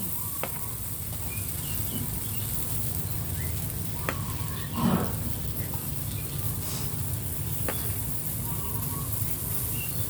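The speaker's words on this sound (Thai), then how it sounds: "ย่างขนมมันคิดก่อนเลย" Steady sizzling of sweet potato snacks frying in a new pan, a continuous crackly hiss with a few faint clicks and a brief louder rustle midway.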